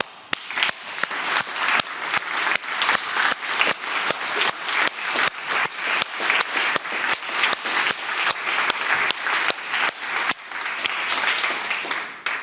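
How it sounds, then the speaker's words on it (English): A conference audience gives a sustained round of applause for a team, many hands clapping steadily and loudly for about twelve seconds, with no one talking over it. "give John, Giles and the team a huge round of applause"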